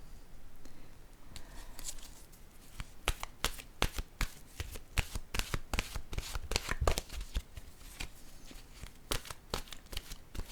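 Playing cards being shuffled by hand at close range, a fast, irregular run of crisp riffling and snapping bursts that keeps going throughout, with no voices.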